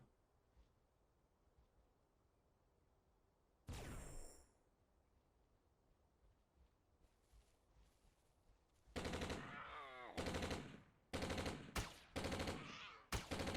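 Gunfire from the video game Entropia Universe: a single sharp blast, then several loud bursts of rapid automatic shots separated by short pauses, over a faint background hum.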